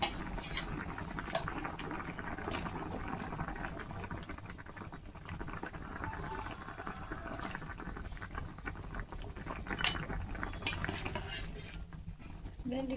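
Okra curry in a pot after raw water is added, with turmeric, giving a faint steady bubbling simmer with occasional soft stirring and utensil clinks.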